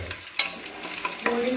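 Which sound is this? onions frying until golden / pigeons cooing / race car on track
onions frying until golden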